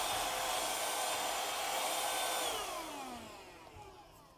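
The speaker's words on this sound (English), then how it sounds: "Can the vacuum pick it up?" An ionvac PowerMax vacuum cleaner from tzumi runs with a steady, loud, high-pitched motor whine. Partway through, it winds down with a falling pitch and fades, with no talk.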